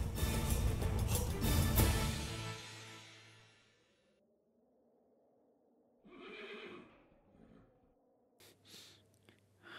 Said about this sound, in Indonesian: Mulai saat ini, kuda ini akan menjadi milik Kan Baba